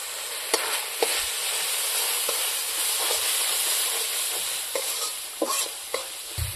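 Salt, turmeric and dry chili powder frying in a pan with spice-rinse water added for a fish and cauliflower-potato curry, a steady close hiss with occasional spoon stirs and scrapes throughout.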